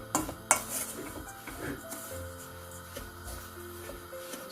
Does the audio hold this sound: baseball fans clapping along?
no